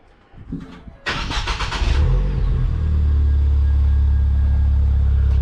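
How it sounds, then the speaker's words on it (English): A car engine cranks, catches and fires up through a new Milltek exhaust, settling into a deep, loud, rumbling idle heard up close. "It's time for our first start now. Going to fire him up then, Will."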